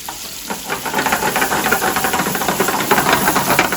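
Food sizzles and hisses steadily in a hot frying pan, rendering toward a crispy golden brown, with a dense, continuous crackle close up throughout and no voices.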